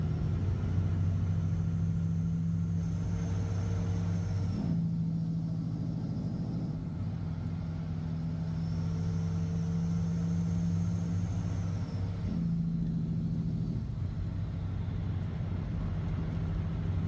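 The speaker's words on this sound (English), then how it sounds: "They say this is what the truck should sound like." A truck engine drones at a steady, low rumble for a long stretch, its tone shifting slightly in pitch now and then with no talk over it.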